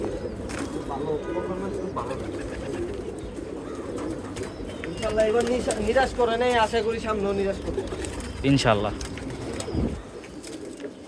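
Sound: pigeons cooing

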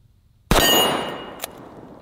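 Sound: Ruger Blackhawk .45 Long Colt revolver being fired

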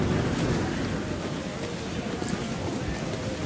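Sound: strong wind at sea in a video game

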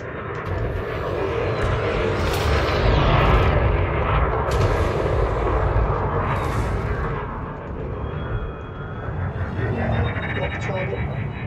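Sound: ship weapons firing in the video game Elite Dangerous

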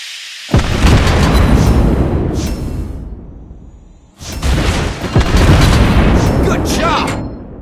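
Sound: explosion of enemy ship being hit, from a video game

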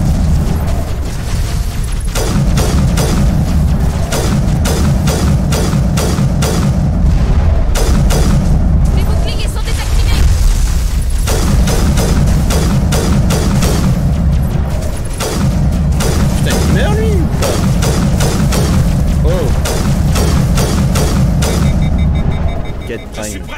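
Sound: gunfire and explosions in the video game Mass Effect

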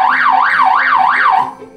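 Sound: buzzer sound

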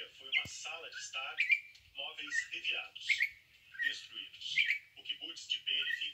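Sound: campo troupial (currupião) calling while feeding

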